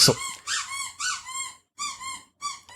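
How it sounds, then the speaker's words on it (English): A dog lets out a run of high, whining squeaks, five drawn-out cries with short pauses between them, loud and close with no talk over them. "we're not going to stop for our dog squeaking"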